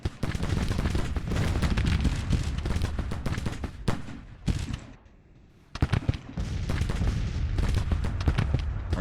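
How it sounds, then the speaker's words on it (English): Artillery fire in the Civil War strategy game Grand Tactician: The Civil War, a loud rolling barrage of overlapping cannon and musket blasts that briefly drops away near the middle before the heavy firing resumes. "Artillery's finally engaged."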